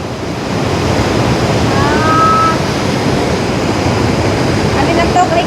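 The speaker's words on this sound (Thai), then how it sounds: "อันนี้น้ำตกนี่คือเห็นในภาพนะ" A waterfall at a high scenic spot roars as a steady, loud broadband rush of falling water that fills the whole stretch, with a faint brief tonal sound partway through.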